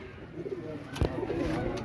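Pigeons coo softly in a low, warbling murmur at a seller's loft, with a brief sharp knock or flutter midway through, fairly faint and close.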